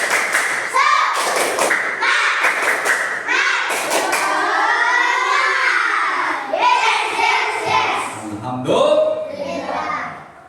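Students in a class perform a rhythmic spirit clap, sharp patterned claps and thumps mixed with children chanting and shouting loudly together throughout.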